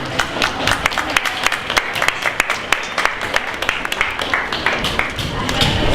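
Applause from an audience at a junior hackathon show-and-tell, a dense run of hand claps with some crowd noise, steady for several seconds and moderately loud.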